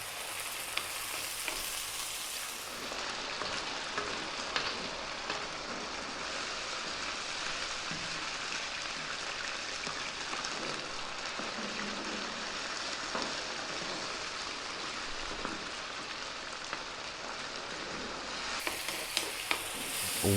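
Prawn curry with fresh tomato frying on high heat, a steady, dense crackling sizzle that holds evenly throughout, close and continuous with occasional faint stirring.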